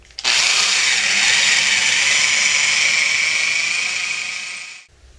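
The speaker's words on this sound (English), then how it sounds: "Okay, so we drilled that out with a half inch drill bit." A power drill with a half-inch bit bores out a telescope tripod base part, a loud, steady high-pitched whine that starts abruptly, runs continuously for several seconds and cuts off, with no talking.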